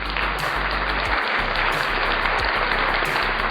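A round of applause played as a sound effect by a streamer during a Grim Fandango stream, a dense, continuous wash of clapping at steady loudness throughout, with no one talking.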